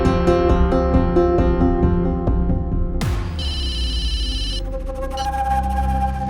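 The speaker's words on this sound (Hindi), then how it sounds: "किसी का कॉल आ रहा है मुझे" A telephone rings with a repeating electronic melody of bright, even tones, close and clear. It is then cut by a sudden burst and a shrill, sustained tone.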